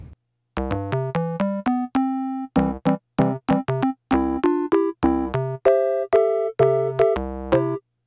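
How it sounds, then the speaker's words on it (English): A Korg Lambda synthesizer electric piano preset plays a bouncy sequence of short, plucky notes and chords, clean and close with brief gaps, no voices. "The electric piano sounds like this."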